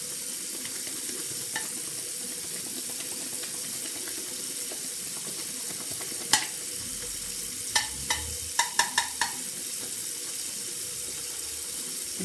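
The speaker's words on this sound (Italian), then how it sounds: "andiamo a montare in ciotola. Mai circolare, sempre." A shaving brush whips hot-water lather in a bowl, a continuous wet swishing and frothing with a few sharper taps near the end, close and fairly loud with no talk.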